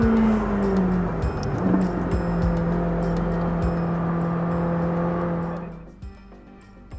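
A McLaren 600LT sports car pulls hard under acceleration, its engine a steady close drone with shifting pitch that suddenly drops away near the end.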